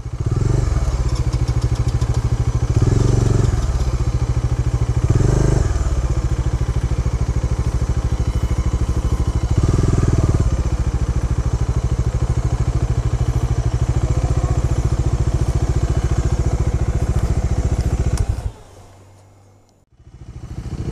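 A Bajaj Dominar 400 motorcycle engine, failing to start after a fall on a dirt road, churns loudly and roughly for a long stretch with periodic thumps, then sputters and cuts out, briefly going quiet.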